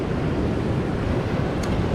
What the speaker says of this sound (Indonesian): Ini ombaknya cukup besar ombaknya.